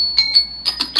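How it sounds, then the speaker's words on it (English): A phone alarm rings in short repeated high-pitched bursts, several chimes in one second, fairly loud with no talking. "Oh, that's my alarm."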